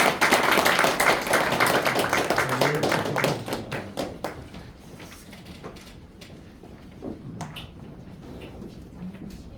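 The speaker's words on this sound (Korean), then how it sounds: "실행위원께서 격려와 뜨거운 박수 보내주시기 바랍니다" Dense clapping from a crowd at a church elders' association committee meeting, loud at first and gradually thinning out, with scattered claps trailing off near the end.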